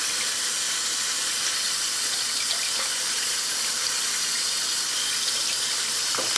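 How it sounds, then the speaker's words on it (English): Water runs from a kitchen sink tap in a steady, close hiss that splashes and gushes continuously, with no voices over it. "Let me let the water run so I can clean my hands."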